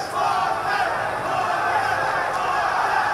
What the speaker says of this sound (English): You heard the crowd support for Lopez as they were introduced.